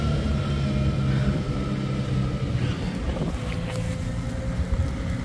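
Strong wind gusts buffet the microphone in a continuous roar with low rumbling surges, outdoors beside a narrow passage where people are working; no speech.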